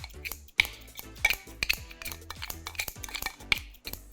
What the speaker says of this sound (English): we're going to start by snipping the chives into